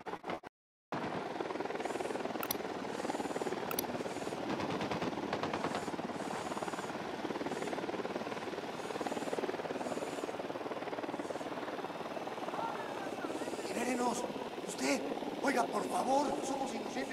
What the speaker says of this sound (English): Only that chopper. Stay low.